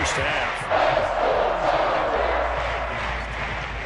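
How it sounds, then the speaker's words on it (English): Stadium crowd noise from a Madden 24 NFL football game, a loud continuous roar that swells briefly near the start and stays steady beneath the broadcast ambience. "And the crowd is on here in this first half."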